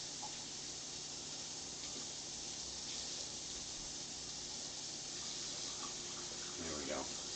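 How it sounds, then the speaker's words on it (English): Hot tap water runs steadily over a metal jar lid in a home kitchen sink, a continuous hiss and splash with faint background noise throughout. "Just running the lid under some hot water here."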